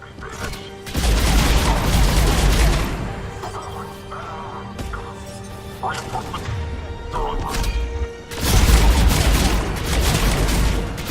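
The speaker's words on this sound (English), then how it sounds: "Under heavy attack. Taking fire." Mass Effect 3 combat firefight: dense bursts of gunfire and booming impacts swell loud at the start and again near the end, with a quieter stretch of scattered shots and clatter between, voices and radio chatter mixed in.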